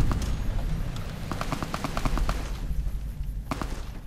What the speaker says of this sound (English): This random gunfire is really, like, messing with my head.